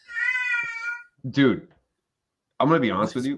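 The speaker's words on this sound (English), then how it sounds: "that's my cat. He's just randomly making noises lately" A pet cat makes a long, high, wavering meow that sounds like a crying baby, followed by a short pause and then close-up speech from a man.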